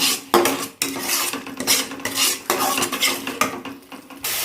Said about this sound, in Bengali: এটা মিশিয়ে একটু তেল ছাড়া পর্যন্ত এটা মিশিয়ে নেব, ভালো মতো কষিয়ে নেব